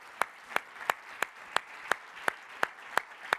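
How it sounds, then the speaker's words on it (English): Sparse, evenly spaced claps ring out, roughly ten sharp hits at a steady beat, as a small crowd offers a round of applause for the 15 companies at the 43North 2025 semi-finals. "How about we give a round of applause to all 15 companies for a great job today, huh?"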